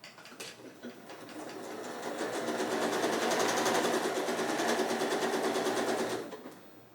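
A sewing machine stitching quilt pieces for half-square triangles, running as a steady rapid mechanical whir that builds up, holds for several seconds and then stops, close and alone.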